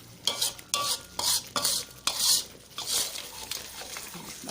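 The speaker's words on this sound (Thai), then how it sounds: "พริกแกงสำเร็จจริงๆแล้วเขาก็ผัดมาแล้วแหละแต่เราก็มาผัดเพื่อเพิ่มความหอมอีกนิดนึงนะ" Thai massaman curry paste is stir-fried in coconut milk with a spatula, giving repeated close scraping strokes over a soft, low sizzle and no talk.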